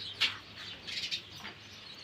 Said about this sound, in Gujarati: અમારી ચકલી જો કેમ બાકી કલબલાટ કરે